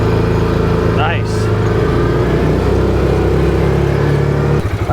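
2024 Massimo T Boss 550 UTV engine, a loud, close, continuous drone climbing through the gears in Tennessee hill country, with a brief voice partway through and a sudden drop at the end.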